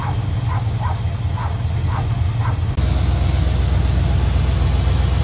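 A small block Chevy engine runs after a distributor replacement with a loud, steady low rumble up close. It grows heavier and more even partway through, after a stretch of short repeating bursts over the running motor.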